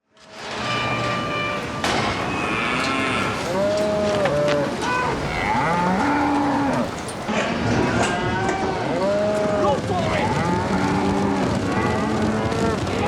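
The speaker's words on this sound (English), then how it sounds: "You had plenty of cows." Several cows moo repeatedly, some close and loud, others farther off, their long, drawn-out calls overlapping over a steady background hum.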